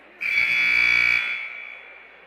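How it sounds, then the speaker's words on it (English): A loud, steady electronic buzzer sounds once at a high school varsity basketball game between Sioux Center and Unity Christian, holding for about a second before fading into the gym's ambient noise. "And the buzzer goes off."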